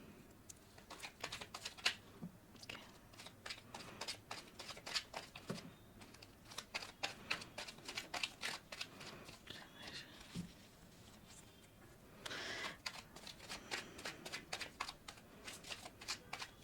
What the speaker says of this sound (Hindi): अपने आप बहुत से कार्ड्स गिर रहे हैं